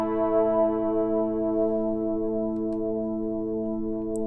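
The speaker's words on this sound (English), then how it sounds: "That distortion really, really brought this sound alive." Synth loop in Logic Pro run through a distortion drive effect: a held, buzzy harmonic-rich tone sustained steadily for a few seconds, with a faint tick near the end and no talking.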